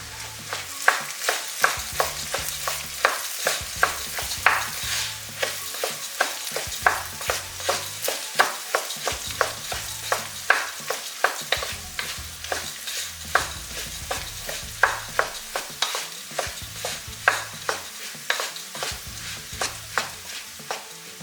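A spoon stirs garam masala into vegan vegetable rice frying in a pan, scraping in a steady, repeated rhythm over a soft, continuous sizzle, with no talking.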